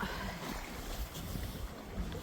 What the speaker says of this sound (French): Navigation à la grande voile.